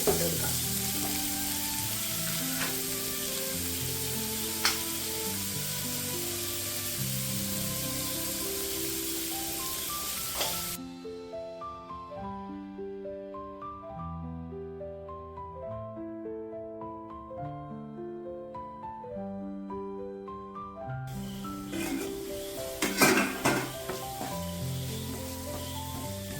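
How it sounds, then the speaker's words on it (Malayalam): Onions sizzle steadily in a hot pan with salt added, a continuous bright frying hiss with occasional stirring scrapes; midway the sizzle drops sharply and quiets, then surges back loud near the end, with background music underneath. "ഉള്ളി പെട്ടെന്ന് വാടിക്കിട്ടാൻ നമുക്ക് കുറച്ച് ഉപ്പിട്ട് കൊടുക്കാം"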